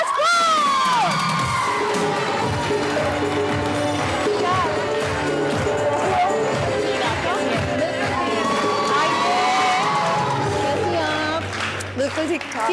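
A studio audience on an entertainment show cheers, whoops and claps for two actresses, loud and crowded with shouts and a host's voice running over the noise throughout.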